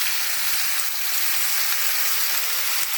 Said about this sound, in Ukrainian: Ну все, смажемо.